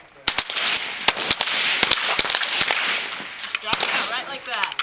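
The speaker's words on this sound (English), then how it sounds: "Rock the bolt. Make every shot count." Rapid sharp rifle-style cracks ring out in a dense, irregular volley, loud and close, over a noisy background with some voice-like sound mixed in.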